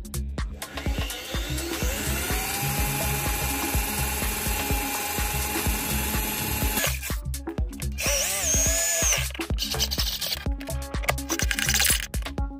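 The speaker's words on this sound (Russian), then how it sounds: "сейчас я просверлю три отверстия, чтобы, не дай бог, у нас дощечка не лопнула" A power drill bores holes into a wooden board with a whining, rising motor pitch and rattling chatter through the wood, then spins down into several shorter bursts and clicks as the bit is repositioned.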